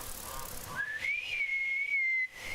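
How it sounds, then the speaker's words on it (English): A character in the video game Ghost of Yotei whistles a single clear tone that rises and then holds for over a second, heard alone against a quiet ambient backdrop. "Maybe if you try whistling."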